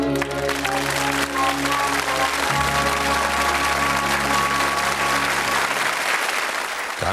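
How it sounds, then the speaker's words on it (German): A TV studio audience gives loud, sustained applause, dense and even throughout, with a low steady musical drone underneath. "Als Gage spenden wir Ihnen Applaus."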